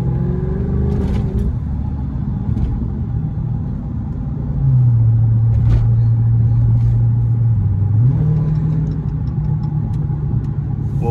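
A Dodge SRT 392 engine rumbles low and steady from inside the car while driving, rising into a louder sustained drone as it accelerates, with a few faint pops and no clear crackle standing out.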